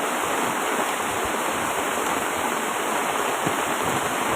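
Steady broadband hiss of heavy rain falling, continuous and fairly loud throughout with no voices.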